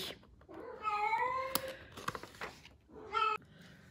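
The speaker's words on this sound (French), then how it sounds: "j'étais enfermé le chat parce que sinon il va faire que de miauler" A house cat meows several times in drawn-out, wavering cries, with a brief pause before a final shorter meow, close by and fairly clear over a quiet indoor background.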